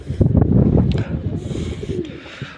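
Pigeons coo in low, throaty, rolling calls, close and fairly loud, with soft murmuring continuing throughout.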